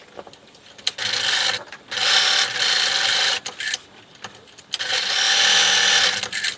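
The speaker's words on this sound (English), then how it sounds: "I'm going to sew down each side of the loop, this side and this side, 1/8 inches from the edge" Sewing machine stitching down each side of a fabric loop for a Christmas stocking, 1/8 inch from the edge: loud, close whirring runs in several bursts with short pauses between, no talking.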